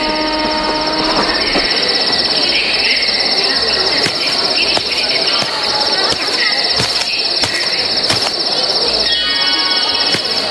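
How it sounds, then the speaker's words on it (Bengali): A train pulls into a station and comes to a stop at night. It makes a loud, sustained rumble with a steady high screech and repeated clanks and thumps from the wagons, and the squealing fades near the end. "একটা ট্রেন এসে থেমেছে স্টেশনের বুকে"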